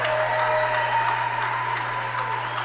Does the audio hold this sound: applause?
yes